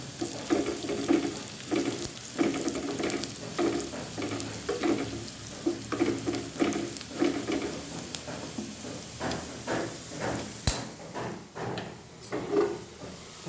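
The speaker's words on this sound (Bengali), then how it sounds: "আদা কুচি, কাঁচামরিচ কুচি, পেঁয়াজ, শুকনো মরিচ গুঁড়া দিয়ে একটা ভাজনা দিয়ে দেব।" Ginger, green chilli, onion and chilli powder sizzle steadily in hot oil for a tempering, with repeated stirring scrapes and clatters in a pan, close and moderately loud, no talking.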